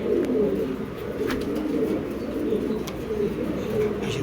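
A male floor-touch Mundian fancy pigeon coos in a low, continuous, rolling murmur, close and steady, with faint chirps from other birds in the loft.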